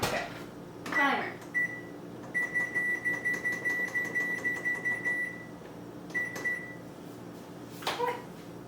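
A kitchen timer on an oven beeps in a quick repeated run of electronic tones, then a couple more short beeps after a pause, while pizzookies bake, with clatter around it.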